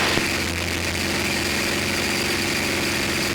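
The engine of a P-51 Mustang, Crazy Horse 2, drones steadily as power is eased up, a loud, continuous low hum heard from inside the aircraft with no talk over it.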